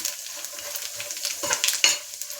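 Food fries in hot oil with a soft, close sizzle and intermittent scraping strokes of a spoon stirring, growing slightly louder toward the end.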